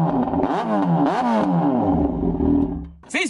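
A Yamaha XJ6 motorcycle fitted with a Super Cano aftermarket exhaust revs up and down in a few rising and falling sweeps at close range, then drops off briefly before a last sharp burst.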